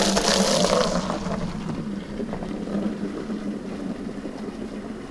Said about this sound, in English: Oh yeah, that wind, folks.